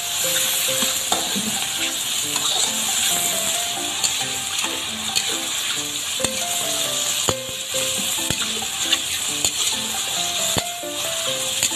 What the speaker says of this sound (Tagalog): Halo-halo hanggang sa maluto.